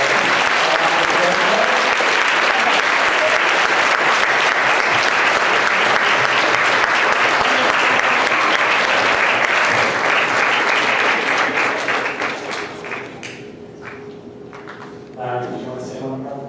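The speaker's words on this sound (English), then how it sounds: "if we could give one final round of applause" A large audience gives a long final round of applause at the close of a presentation, loud and dense for about twelve seconds before thinning to scattered claps and a voice.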